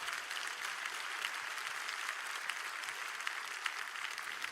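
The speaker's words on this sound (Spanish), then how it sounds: "Le doy un aplauso a Jesucristo." A church congregation at a service gives a steady, dense round of applause, the many hands clapping evenly at a moderate distance with no speech over it.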